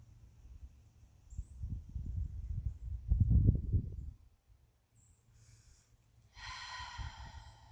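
Slow, deep breathing from someone lying on their back in a beginner yoga pose (Happy Baby): several soft, close breaths that swell into one fuller exhale, then near quiet, with a brief high chirp toward the end.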